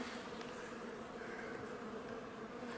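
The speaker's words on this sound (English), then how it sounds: "these bees are just super duper chill" Honey bees droning steadily at an open hive during beekeeping, a dense close buzz of many wings filling the whole moment without pause.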